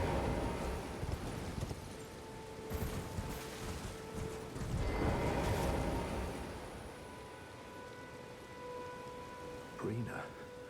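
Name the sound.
horse hooves while riding in the video game Elden Ring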